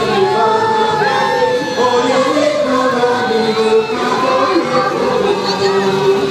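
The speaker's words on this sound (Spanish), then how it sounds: "Esos gritos Ensenada apoyando a Juice Dance." A dense crowd at a 2016 carnival parade in Ensenada cheers and shouts continuously for a passing dance troupe, with overlapping voices and whoops forming a loud, sustained roar.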